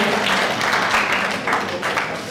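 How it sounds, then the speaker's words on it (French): Steady, loud applause from a crowd for a speaker at a public speaking session, continuous dense clapping throughout. "Vraiment, tonnerre d'applaudissements"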